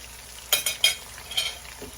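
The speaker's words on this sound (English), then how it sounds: "So the cauliflower, I'm gonna just stir it up some." Cauliflower and onions frying in olive oil in a pan, stirred with a utensil: several sharp scraping clatters in an uneven rhythm over a soft, steady sizzle, close and clear, with no talk.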